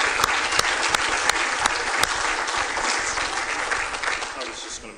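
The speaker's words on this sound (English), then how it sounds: "why don't we give one more round of applause for the first 9 inductees into the AFA family" An awards audience gives a loud, sustained round of applause for Hall of Fame inductees, with dense clapping and a few sharper claps near the microphone, while a voice speaks faintly beneath it.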